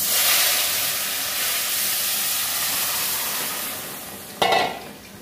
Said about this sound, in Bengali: ডাল ছুঁকে দিয়েছি বন্ধুরা